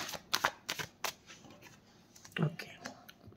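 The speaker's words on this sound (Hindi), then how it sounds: "कार्ड शफल कर लेती हूँ।" Tarot cards being shuffled by hand, giving quick papery riffles and soft flutters in short bursts, close and fairly quiet, with no talking over them.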